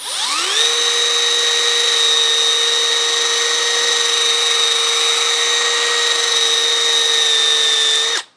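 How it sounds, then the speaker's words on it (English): An electric drill works on a Craftsman front wheel axle shaft, spinning up and holding a steady high-pitched whine for several seconds, then stopping abruptly. It is loud and close, with no voices. "I'm going to go in here and work on it a little bit with my drill"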